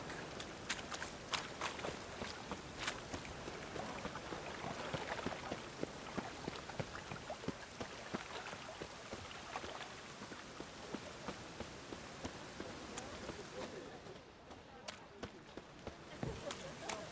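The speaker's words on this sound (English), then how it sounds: "Rain again." Rainfall in The Witcher 3, a faint continuous patter of drops on surfaces with scattered taps, steady throughout and no talk.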